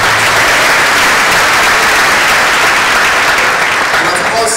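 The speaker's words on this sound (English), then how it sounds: "I think we should give him a round of applause" A lecture audience gives a professor of medicine a loud, dense round of applause, many hands clapping steadily and continuously at close range without pause.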